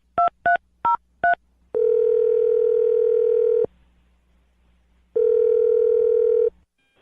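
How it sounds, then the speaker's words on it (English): A series of four short touch-tone beeps as a telephone number is dialed, followed by two long, steady ringback tones separated by a pause, clear and close with no talking. "I'm going to dial his phone number right now"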